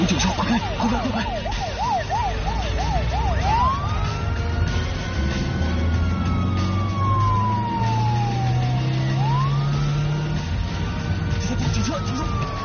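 A police car siren wails near and loud, first in a rapid yelp and then in long rising and falling sweeps, over engine rumble and traffic during a night-time robbery chase.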